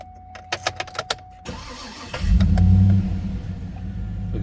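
A Yukon's L92 V8 cranks over with a few short starter bursts, then catches and settles into a loud, steady high idle rumble, close by with no talking.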